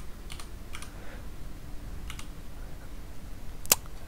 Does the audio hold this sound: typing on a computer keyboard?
yes